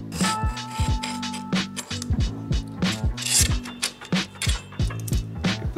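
A Lezyne three-way hex wrench works loose the handlebar bolts on a bicycle, giving close, irregular bursts of clicking, ratcheting and creaking metal with short pauses between turns.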